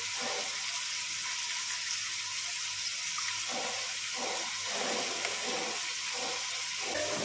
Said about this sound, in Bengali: এখন এটাতেই একটু জল দিলাম